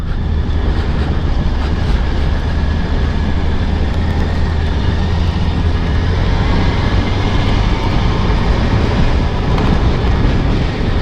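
A motorcycle engine drones steadily and loudly while riding slowly on a secondary road with the throttle held, and a continuous low rumble and wind noise fill the whole stretch.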